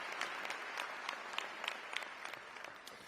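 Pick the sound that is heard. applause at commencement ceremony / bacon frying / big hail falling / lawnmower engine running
applause at commencement ceremony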